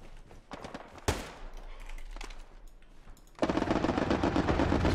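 An MG42 machine gun firing in the World War II shooter Hell Let Loose, bursts of rapid gunfire with scattered shots that break into a loud, sustained stream near the end.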